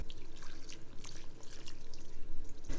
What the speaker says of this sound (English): now you're going to drain the water out of the pot